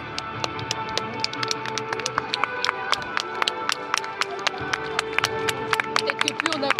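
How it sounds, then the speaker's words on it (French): Audience applause at a national dog show in Joinville, France: sharp, irregular hand claps from a moderate crowd, fairly close, running steadily over faint background voices. "Peut-être que plus on applaudit fort, plus ça va le motiver."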